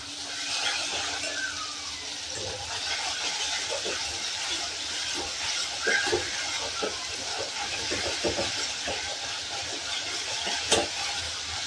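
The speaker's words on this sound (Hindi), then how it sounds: "ये फ्राई अच्छे से होने दीजिए उसके बाद" Food frying in a pan on a home kitchen stove gives a steady sizzle with soft stirring scrapes and faint clinks throughout, close and moderately loud, with no talking.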